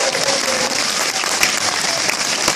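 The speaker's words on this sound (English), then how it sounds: "can we hear it for Mike, Rachel, the bridal party, and the parents for this amazing day?" Wedding guests applauding at a reception, a dense burst of clapping from a full room for a few seconds, loud and sustained.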